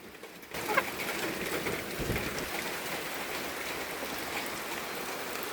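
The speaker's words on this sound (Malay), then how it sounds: "Ni tengah hujan tau sekarang ni" Steady morning rain patters on a surface near a chicken coop in a continuous soft hiss, with a faint bird call early on.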